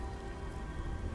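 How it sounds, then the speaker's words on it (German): Steady rain falls in the video game Beyond Two Souls, a constant dense hiss of drops on surfaces with no voices, even and unbroken throughout. "Gottverdammter Regen."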